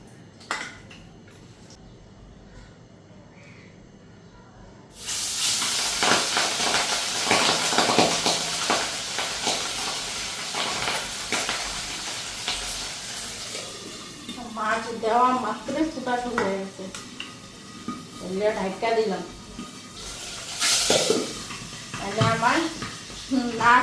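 Fish rubbed with salt and turmeric hits hot oil in a wok, bursting into a loud, steady sizzle with sharp popping and spattering after a quiet start, while a person talks over it.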